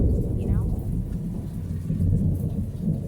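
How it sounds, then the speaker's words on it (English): Heavy thunder rumbles loudly and continuously through a storm, with rain mixed in and swelling in waves. "I swear that thunder is insane."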